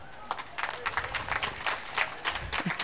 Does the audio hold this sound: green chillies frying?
no